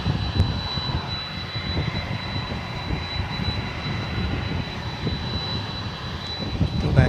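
Jet airliner at night at DFW Airport on runway 18 left, preparing for takeoff to London, a steady, fairly distant engine roar with a thin high whine that holds constant throughout.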